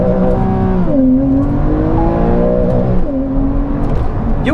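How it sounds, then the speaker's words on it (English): A car engine revs hard and climbs through the gears, pitch rising and dropping with each shift, loud and close, with no voices. "the motor revs so fast"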